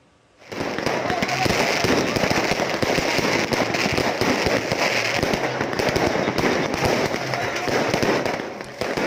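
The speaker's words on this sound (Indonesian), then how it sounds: "Seluruh kembang api di kios tersebut ikut meledak." Rapid, continuous crackling bursts of fireworks going off one after another as a burning fireworks kiosk's stock explodes, loud and dense for several seconds with no pause.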